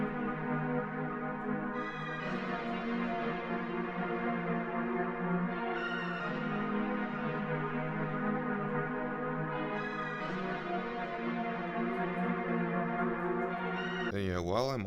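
A dense, sustained melody sample slowed with a halftime effect in FL Studio, with ringing bell-like tones and warm layered harmonics, playing continuously and loud without talking.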